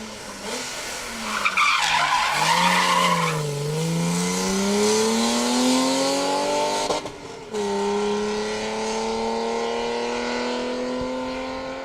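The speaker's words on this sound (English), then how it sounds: "I can hear the BMW singing towards us" BMW rally car on a stage of the Manx Rally, approaching at speed with its engine rising and falling through gear changes, a brief burst of gravel or tire noise, then a long climbing wail as it passes close by.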